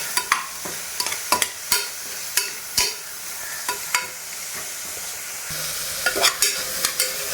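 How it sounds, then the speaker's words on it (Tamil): Tomatoes and onions are sautéed in a pan at home, with a spoon scraping and clacking against the metal in irregular strokes over a soft, continuous sizzle. "ஸோ இப்போ தக்காளியும் அந்த ஆனியனையும் சேர்த்து நம்ம கலக்கிக்கணும்."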